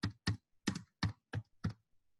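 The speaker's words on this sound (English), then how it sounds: "I am typing here" Keys click on a computer keyboard while someone types in an Excel spreadsheet, about six crisp, close keystrokes in a quick uneven rhythm, with no talking.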